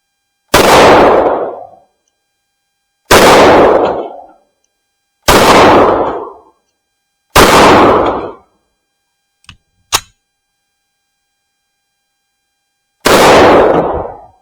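A CZ Model 1952 pistol fires 7.62x25mm Tokarev rounds: four loud, sharp reports about two seconds apart, a brief pause with a couple of small clicks, then one more shot near the end, each ringing off briefly.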